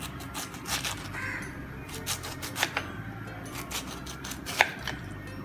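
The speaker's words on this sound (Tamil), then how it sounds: "இதை துண்டு துண்டாக கட் பண்ணணும்" A knife chops through pineapple in a kitchen, a series of crisp, irregular cuts against a board, with crows cawing in the background.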